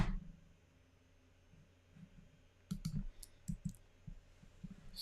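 A computer mouse clicks over a stock chart, a few sharp, close taps in quick clusters of two or three, standing out above a quiet room hum.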